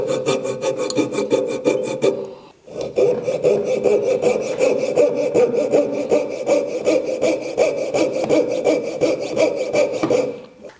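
A hand saw cuts roughly through waste wood in a woodworking joint, a steady rhythmic back-and-forth rasping of strokes, close and loud, pausing briefly near the start before resuming continuously.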